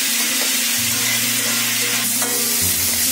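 Onions frying in oil in a pan for a home-style chicken curry, a dense, loud, continuous sizzle heard up close with a faint low hum beneath and no talking.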